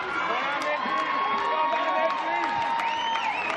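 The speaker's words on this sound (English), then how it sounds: "The cheer squad, they're getting their voice now." A cheer squad at an MPL football semifinal between Darwin Olympic and Darwin Hearts: a steady crowd din of voices and chanting fills the clip, with commentary talking over it.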